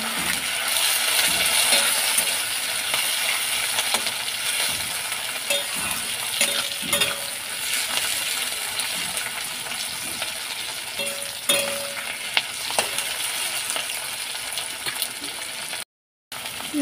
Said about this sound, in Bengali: লো টু মিডিয়াম ফ্লেমে 2 মিনিট নাড়াচাড়া করে ভেজে নিয়েছি।